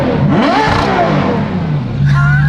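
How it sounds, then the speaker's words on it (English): A Ferrari engine revs up loudly nearby, rising in pitch, then settles into a steady idle hum with a second quick rev near the end, heard close and alone. "The whole chassis of that car just like twists when you rev it."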